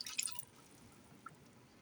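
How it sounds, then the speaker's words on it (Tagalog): Water drips and splashes as it is poured into a pot being readied to steam suman, a Filipino rice cake wrapped in leaves, with a brief burst at the start and a faint drip later in a quiet kitchen. "lagyan siya natin ng tubig"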